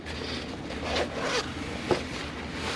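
A zipper on a Grey Ghost backpack is drawn in a few short, raspy pulls at close range, with quiet handling scrapes and one sharp tick amid low background hum, no talking.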